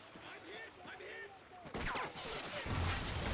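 Gunfire in Call of Duty Ghosts during a Cranked multiplayer match, with bursts of shots growing louder toward the end while talk runs underneath.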